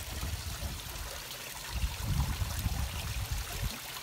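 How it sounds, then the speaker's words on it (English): Water gushing from a flushing aquaponics grow bed down into the fish tank, a steady rushing pour with bubbling, gurgling surges that grow louder around the middle, close by and with no voices. "And that one just flushed."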